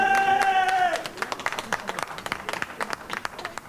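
A family applauds as the last trapped cavers come up out of the Verneau cave system at night, with scattered hand claps and a small crowd heard alongside a news narrator speaking in French.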